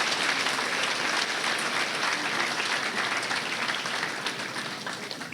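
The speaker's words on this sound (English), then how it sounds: "let's give these girls another round of applause for a great job." Packed-house audience at a county fair queen competition applauding the contestants, a steady dense roar of clapping that holds throughout and eases off slightly at the end.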